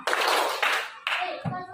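Hand clapping in a coding lesson game comes as three separate short bursts of claps, close and fairly crisp, with a voice briefly at the end.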